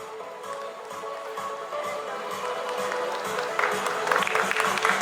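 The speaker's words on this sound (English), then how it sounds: "Let's give them a big round of applause." Audience applause at a student felicitation ceremony, a continuous wash of clapping from a large room, moderately loud and swelling toward the end, with faint crowd noise underneath.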